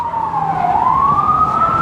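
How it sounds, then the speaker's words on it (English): Emergency vehicle siren wailing in a Bronx residential street in New York City, a single loud, fairly close tone dipping and then rising steadily over about two seconds above traffic hum. "you can still hear the sirens of New York City"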